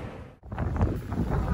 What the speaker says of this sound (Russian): тут сильный ветер